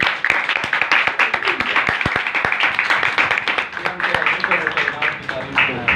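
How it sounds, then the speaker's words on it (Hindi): A church congregation claps vigorously during a worship service, with sharp individual claps standing out over a busy spread of applause and voices mixed in. "तालियां।"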